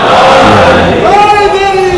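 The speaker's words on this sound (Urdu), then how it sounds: "آپ حضرات نعرے صلوات سے استقبال" A mosque or majlis gathering honoring Babul Hawaij, with the audience loudly chanting a salawat slogan together in unison for two seconds, dense crowd voices with rising drawn-out tones.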